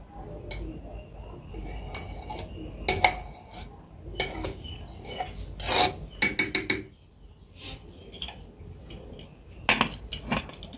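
A spoon scrapes and stirs through cooked lentil khichuri in a pot, giving repeated rasping strokes and occasional metallic knocks at close range with no talk.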